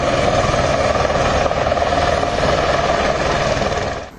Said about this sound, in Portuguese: O helicóptero Águia da Polícia Militar sobrevoou a região.